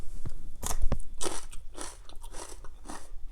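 Crisp crunching bites into fresh green beans, a few sharp close snaps followed by steady chewing, loud and near with no talk.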